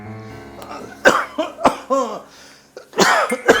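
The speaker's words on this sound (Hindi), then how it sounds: "अरे कुछ नहीं, थोड़ी खांसी आ रही" Several loud, sharp coughs from an older man burst out in separate clusters, close to the listener, with short pauses between them.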